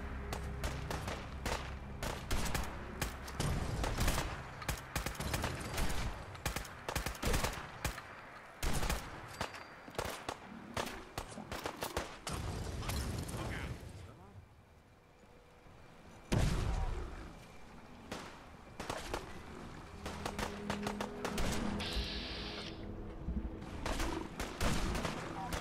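Dense bursts of gunfire and booming shots fill a firefight in Fallout 4 with the Grounded Commonwealth overhaul, sharp cracks arriving in rapid clusters, with a short lull midway before the shooting resumes, and brief voices heard beneath.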